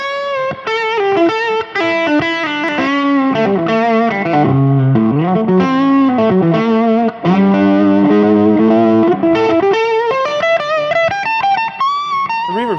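Electric guitar played through a blackface amp with reverb, a sustained distorted lead line with bends and chorus-like shimmer, loud and continuous with no talking.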